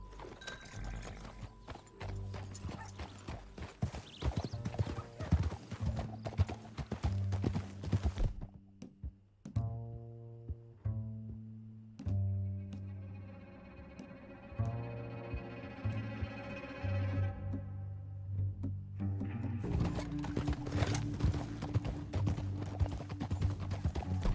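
Hooves clatter in a steady rhythmic clip-clop, with a horse whinnying and echoing effects and a pause partway through before the galloping resumes, in a video game.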